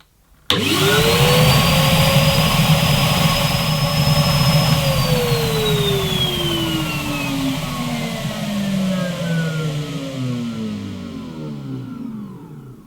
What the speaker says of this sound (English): we'll just compare the suction of Hetty XL Plus to the Hetty Pet, which is a 200 size machine